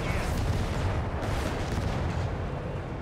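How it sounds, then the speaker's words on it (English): Heavy artillery barrage in the World War II strategy game Company of Heroes 3, a dense continuous rumble of booms and gunfire filling the whole stretch at steady loudness. "taking heavy fire from various sources of artillery"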